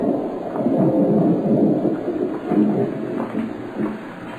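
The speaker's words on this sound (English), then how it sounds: "The thunder seems louder tonight." Low, rolling thunder rumbles steadily for several seconds, a deep continuous roar that swells and fades slightly, with no voices.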